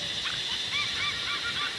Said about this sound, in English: Apart from the swans and the ducks.